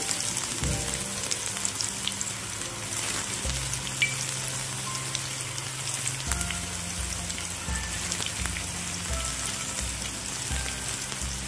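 Cauliflower pieces for Gobi 65 are dropped into hot oil and fry with a steady, close crackling sizzle, with small pops scattered throughout.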